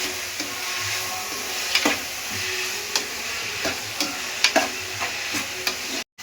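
Egg rice frying in a pan sizzles steadily, with repeated scraping strokes from a spatula stirring it at a fairly regular pace. The sound is close and there is no talking.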